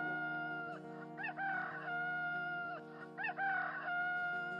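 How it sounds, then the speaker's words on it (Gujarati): A rooster crows twice in a row, each a long, drawn-out, fairly clear call over a steady sustained drone. "કુકડો 3 વાર બોલ્યો, કુકડે કુક"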